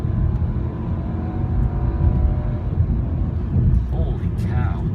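A 2014 Volkswagen Passat's engine hums steadily while driving, with a low road rumble and some whir that swell slightly now and then, close and continuous.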